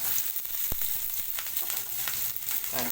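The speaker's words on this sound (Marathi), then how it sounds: "आता टाकणार लसूण अद्रक लसूण गॅस कमी करू आणि मिरची त्याला परतवून घेऊ जरा" Garlic, ginger and green chili sautéing in hot oil over lowered heat, a close continuous sizzle with a few sharp crackles and stirring scrapes, no talking.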